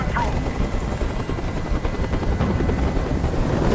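A helicopter hovers overhead in the Detroit: Become Human game, a steady loud rotor chop with engine whine filling the whole stretch.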